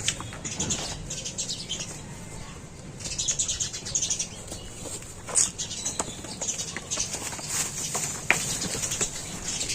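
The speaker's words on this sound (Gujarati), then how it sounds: "મસ્ત મજાના ચકલા બોલી રહ્યા છે." A busy chorus of sparrows chirping and twittering continuously, with scattered flutters and rustles, fairly close, and no voices.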